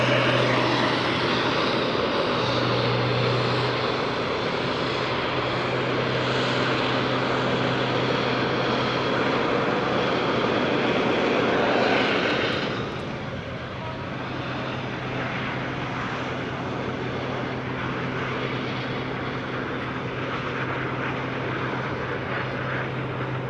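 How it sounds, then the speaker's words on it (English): A loud, continuous roar of the jet engines on a jet-powered Pitts aerobatic plane close by at an air show, steady for a while and then dropping slightly in intensity and pitch. "go to high alpha to slow the aircraft down, and then increase the jet engines"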